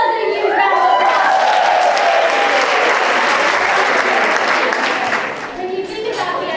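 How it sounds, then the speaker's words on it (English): An expo audience at an optical industry session bursts into loud, dense applause with some cheering, holding steady for several seconds before dipping and continuing. "Give yourselves a huge round of applause."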